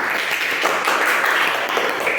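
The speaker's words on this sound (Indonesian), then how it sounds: "Tepuk tangan untuk semuanya" Applause for everyone in a micro-teaching classroom session, a steady dense wash of clapping that holds at an even level throughout.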